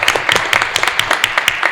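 An audience at a Power Morphicon 2024 stunts panel claps, a close, loud burst of individual hand claps in a fairly quick, uneven rhythm that continues through the whole moment.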